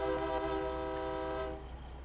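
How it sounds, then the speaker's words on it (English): A sustained, chord-like train air horn on a Kenworth W900 truck in a video game blares loudly for about a second and a half, then cuts off, leaving low rumbling engine noise. "Also, it's got train horns."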